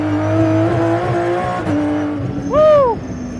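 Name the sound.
McLaren P1 GTR race car accelerating on track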